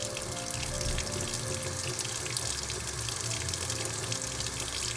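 Hot water runs steadily from a tap just after a combi boiler swap, a constant close rushing splash with no let-up for the whole stretch and no voices over it.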